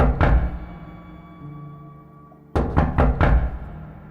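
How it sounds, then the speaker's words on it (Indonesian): Knocking on a door in a boarding house at night: a couple of loud raps, a pause, then a louder burst of four quick knocks, close and alone. "Dan suara ketukan pintu itu terdengar kembali."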